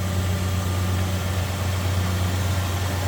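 A 1970 Chevrolet Chevelle Malibu Sport Coupe idles smoothly, its engine giving a steady, even low rumble close by with no variation and no talking.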